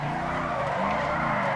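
Tires skid and scrub through an understeering corner in GTA 5, driven in a Pegassi car, a steady loud squeal over a continuous engine drone lasting the whole moment.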